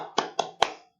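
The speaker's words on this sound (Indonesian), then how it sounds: "Tepuk tangan dong." Three sharp hand claps in quick succession, close and fairly loud, fading into silence.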